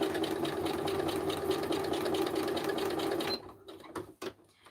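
A sewing machine stitches a scrap-made craft embellishment in a fast, even mechanical rattle, close and steady for about three seconds before stopping abruptly, followed by a few soft handling clicks.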